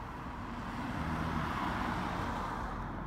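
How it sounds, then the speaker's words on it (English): Cars roll past on a road in Bermuda, a steady low rumble of traffic that swells slightly in the middle, moderately loud and continuous with no talking. "Cars passing all the time."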